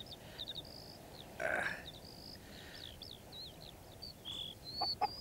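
A hen clucking up in a tree in a children's animated story, with short clucks and bird-like calls scattered over a faint background and no talking.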